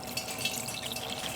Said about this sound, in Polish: Przyjmę od razu lejka i wlewamy litr wody.